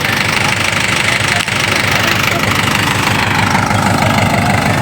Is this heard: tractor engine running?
yes